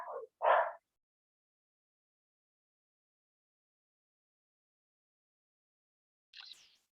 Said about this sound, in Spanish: es que vuelven a ladrarme